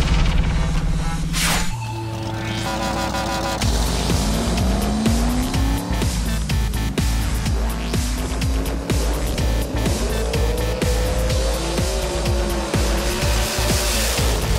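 Custom diecast toy cars, including a Ford GT weighing 88 grams, racing down a track with racing-car engine and tire-squeal sound effects throughout, loud and continuous with whining engine notes rising and falling, no talk.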